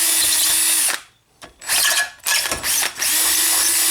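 A power drill whirs loudly up close, drilling out a brake line nut, stopping and restarting in several bursts with brief pauses between runs.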